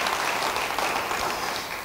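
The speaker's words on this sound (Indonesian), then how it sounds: "Beri tepuk tangan bagi dia." A church congregation claps together during an online Bible study service, a brief, dense burst of applause that stays loud and even throughout.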